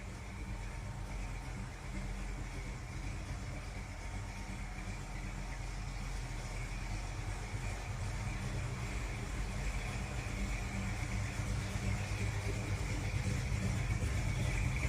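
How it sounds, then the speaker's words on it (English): A restored 1949 Chevy 3100 pickup with a 350 V8 and dual exhaust idles nearby, a steady, deep rumble that grows a little louder toward the end, with no talk. "Sounds great, dual exhaust."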